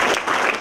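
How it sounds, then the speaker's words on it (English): An audience at an innovation event clapping in unison on command, a short burst of collective claps under a moment of quiet. "can you all clap twice?"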